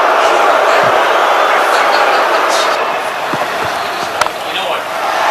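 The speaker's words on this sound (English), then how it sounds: "The crowd's not happy" A large cricket stadium crowd at a South Africa versus Australia match sends up a loud, continuous roar that sounds unhappy and stays dense throughout, with a commentator's voice over it.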